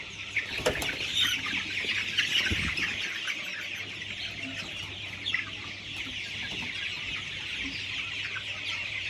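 A flock of Color Bat chickens, about 1000, clucks continuously in a poultry shed, with occasional wing flapping and scattered louder squawks.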